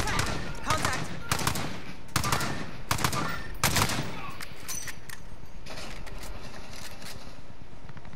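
Video game gunfire, a series of sharp gunshots in quick bursts with brief gaps, some shots fading further off toward the end, over a steady background hum.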